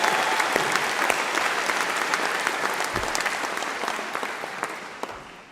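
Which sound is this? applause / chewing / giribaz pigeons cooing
applause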